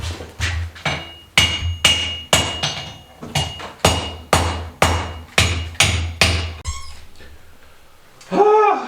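Hammer blows on an anvil while forging a blacksmith's set hammer from a jackhammer bit: a dozen loud, ringing strikes in a steady rhythm, then a few lighter taps and a scrape, no talk.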